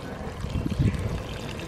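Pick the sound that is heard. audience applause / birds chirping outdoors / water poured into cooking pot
water poured into cooking pot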